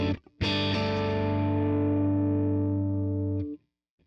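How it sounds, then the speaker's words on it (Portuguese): Electric guitar through a Vox amp simulation on an Ampero Mini, with compressor and noise gate. One loud, close chord is struck after a brief pick noise and rings for about three seconds before being cut off, with no talking. "Então esse é o som do Vox."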